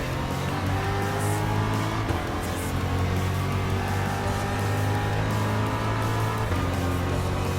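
A Pontiac Firebird races in Gran Turismo Sport, its engine holding a loud, steady, close drone with sustained revving tones throughout and no voices over it.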